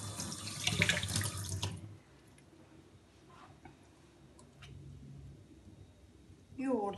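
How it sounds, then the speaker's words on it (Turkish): Tap water runs into a kitchen sink for hand washing after onion grating while preparing oven-baked chicken, a loud steady rush for about two seconds, then quieter handling sounds with a brief sound near the end. "Hemen şöyle elimi yıkayayım."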